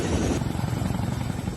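Rescue helicopters fly over Dharali, a village devastated by an Uttarakhand cloudburst, their rotors making a steady, loud, rumbling chop that stays even throughout.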